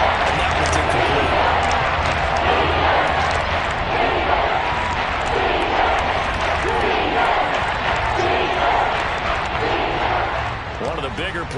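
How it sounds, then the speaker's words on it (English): A stadium crowd roars steadily through a big third down at an American football game, a dense, loud wall of cheering and shouting that holds for the whole stretch, with play-by-play commentary running over it. "The crowd getting into it as we come up on a big 3rd down."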